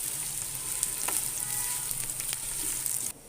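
Sliced onion frying in a pot for vegetable biryani gives a dense, steady, close sizzle with a few soft stirring clicks, then drops off abruptly near the end, with no voices.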